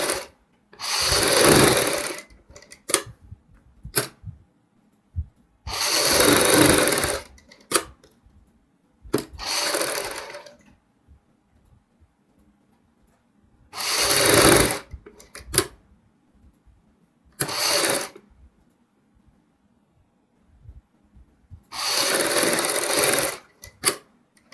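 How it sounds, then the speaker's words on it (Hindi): A sewing machine stitching a baby frock runs in loud, steady bursts of rapid clatter, each a second or two long, separated by quiet pauses and small clicks as the fabric is repositioned. "एक पैर चौड़ी सिलाई लगाएंगे।"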